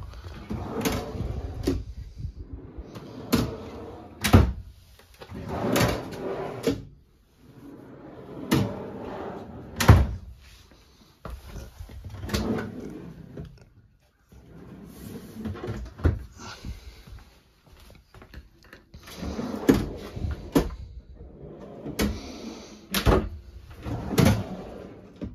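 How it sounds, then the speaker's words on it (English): Deep kitchen drawers in a converted school bus tiny home slide open and shut again and again. Each cycle brings sliding rumbles and a close thump, with short pauses between them. "Kitchen's got lots of drawer space,"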